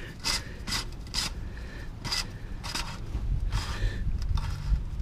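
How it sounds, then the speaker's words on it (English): An oil filter on a VW Touareg is threaded into its housing by hand, making soft, repeated rasping and rubbing scrapes in short strokes over a low background hum. "take our filter, put it in, turn it in by hand as far as we can."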